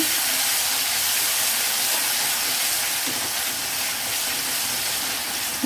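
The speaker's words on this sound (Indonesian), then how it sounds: "Saya tumis sampai harum" Spice paste for semur tempe sautéing in a pan until fragrant gives a loud, steady, close-up hiss of frying that runs unbroken throughout, with no voices.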